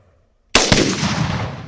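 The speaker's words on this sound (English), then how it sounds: "Seems like it exploded louder than the last one." A rifle shot hits an exploding target outdoors: a sudden loud blast followed by a long, rumbling decay that rolls on for over a second, with no talk.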